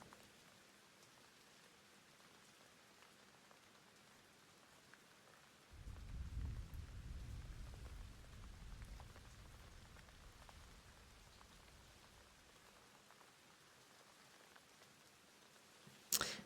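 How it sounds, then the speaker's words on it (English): Rain falls in the survival video game Once Human, a soft hiss that swells for several seconds and then eases back to a quiet background, with a brief sharp sound at the very end. "Nice little rain interlude there."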